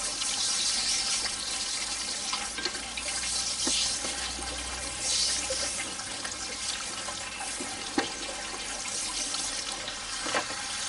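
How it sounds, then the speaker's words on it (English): Running water splashes and trickles over a metal magnet-fishing find in a steady wash, with occasional small knocks, close by and without speech. "Get your water, give it a little wash down."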